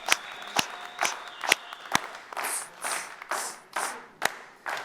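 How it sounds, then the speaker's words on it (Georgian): Audience at a comedy show claps in scattered, uneven bursts, first a few sharp single claps, then softer swelling rounds of applause, moderately close. "ამაზე ტაში მართლა საჭიროა."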